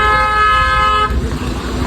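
A sustained car horn blares close and loud in heavy road traffic in Goa for about a second, then gives way to a steady rumble of engines and road noise.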